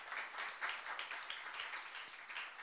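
A church youth congregation claps during a sermon: a quiet, even patter of many hands, soft and somewhat distant, continuing steadily without voices.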